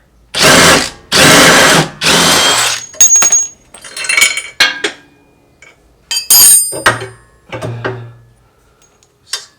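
A power tool removes the track bar bolt on a Jeep JL, three loud close whirring bursts followed by metallic clinks, rattles and shorter tool blips.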